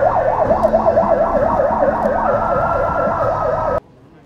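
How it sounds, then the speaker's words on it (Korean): An ambulance siren wails loudly in a steady, rapid warbling cycle that holds for several seconds, then cuts off abruptly, leaving quiet street background. "구급차에 백 씨를 실었습니다."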